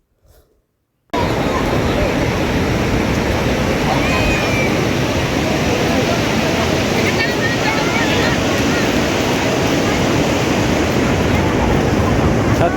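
Sea surf at Patuartek beach near Inani, Cox's Bazar, a loud continuous roar of breaking waves that begins abruptly after a second of near silence and holds steady, with wind buffeting the microphone.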